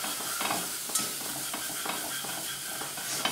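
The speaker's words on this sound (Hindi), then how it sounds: "दो मिनट तक हम इसको चलाएंगे" Spoon stirring matar paneer in a pan: soft scraping strokes repeat over a faint constant sizzle, close by and fairly quiet, with no speech.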